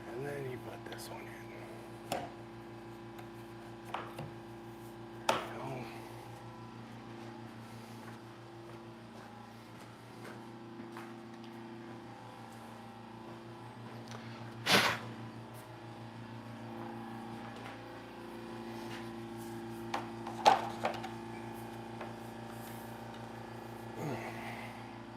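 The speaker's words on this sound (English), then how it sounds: "Compressor should shut off soon." An air compressor runs steadily in a workshop, a continuous low droning hum throughout with occasional clanks and handling noises, while a person talks quietly nearby.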